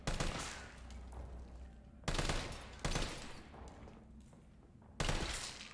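Bursts of gunfire from the Resident Evil 3 Nemesis remake, set in a zombie-filled hospital: loud broadband blasts at the start and again near two, three and five seconds, with rumbling game ambience between them and no talking.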